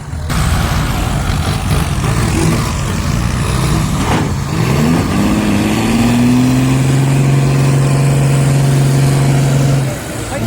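A Kubota FM226 Promax tractor runs steadily on wet, rain-soaked ground, its engine droning loud and continuous with a rising pitch partway through, as if throttling up while stuck in a hole.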